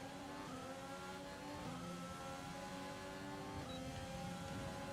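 Formula 1 race car engines in the F1 2020 video game scream at high revs, a continuous layered drone with pitch shifts as cars shift gears and jostle close together, faint and steady with no talk.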